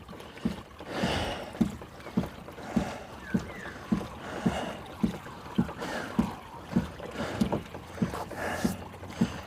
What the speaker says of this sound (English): We're just cruising along at a lazy 5 knots with the foot pedals, right?